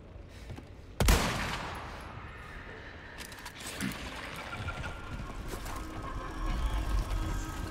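A single sharp gunshot cracks out in Resident Evil 4, followed by a lingering rumble of ambient game noise and faint scattered pops in the background.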